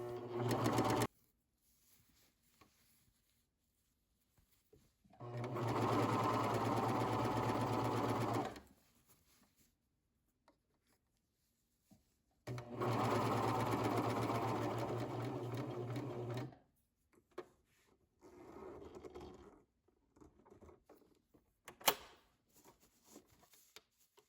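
A sewing machine finishing the seam allowances on a shirt dress runs in two steady bursts of a few seconds each, close and clear, with quiet pauses and small handling clicks between them.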